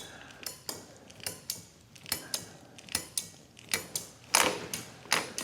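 The brake lever on a new 2026 Honda Goldwing motorcycle is pumped again and again, giving a steady run of soft mechanical clicks and creaks, about two per second, close and quiet with no speech.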